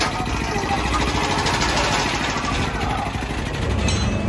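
A pro stock drag motorcycle engine idles steadily in the lanes at an NHRA four-wide event in Las Vegas, a loud continuous throbbing rumble with faint voices underneath.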